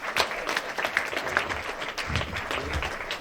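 Audience applauding film music composers at a soundtrack event, dense clapping with sharp individual claps standing out, steady for several seconds with faint crowd voices underneath.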